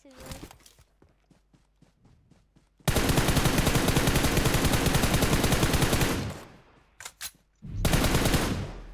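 Automatic gunfire in the video game PUBG Mobile, a long rapid burst of shots lasting several seconds and then a second burst after a short pause, with footsteps and someone speaking in the quieter gaps.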